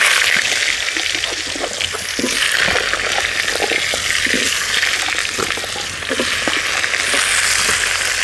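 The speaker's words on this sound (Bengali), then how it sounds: "ফোড়নটা ভাজা হয়ে গেছে, এবার আমি আলুগুলো দিয়ে দিচ্ছি।" Potatoes frying in mustard oil in a wok after a cumin and bay leaf tempering, a loud, dense, continuous sizzle close up with occasional clicks and stirring scrapes underneath.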